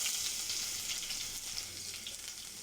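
A handful of onion dropped into about half a cup of hot oil sizzles steadily and loud, a dense continuous frying hiss with no voices, while masoor dal chorchori is being cooked.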